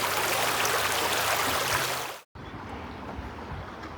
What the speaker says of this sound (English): the navigation, the Itchen River, very clear